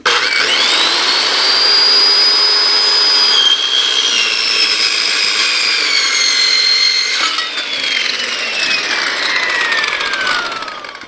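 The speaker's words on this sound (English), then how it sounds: "Now I'm cutting aluminum." A power tool cuts through aluminum for a ground-mount solar install, a loud close continuous shriek with high ringing tones that shift pitch as the blade bites, steady for about eleven seconds without speech.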